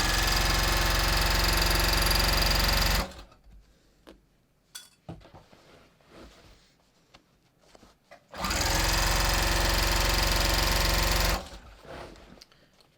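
Sewing machine stitching up a denim jeans seam toward the top of a flared godet insert: two loud steady runs of rapid mechanical hum, separated by a stretch of quiet handling clicks and rustles.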